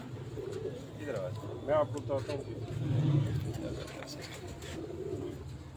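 Pigeon cooing under a man's speech, soft low murmuring coos that swell briefly in the middle, with other faint bird calls nearby.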